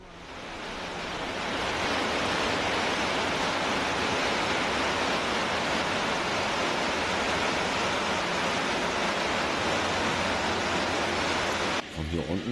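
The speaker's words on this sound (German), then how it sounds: "Den Wasserfall hier." Waterfall in Norway's Geiranger–Trollstigen area, a loud steady broadband roar of rushing water that swells in over the first second and holds throughout, with some wind buffeting and faint voices beneath.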